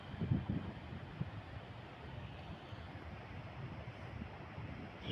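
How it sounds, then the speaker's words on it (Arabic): Sea waves break and wash onto a sandy beach near Mohammedia, Morocco, a steady low rumbling surf with a faint wind hiss, fairly quiet and continuous with no talk. "راه شي مواج كيتمو جايين"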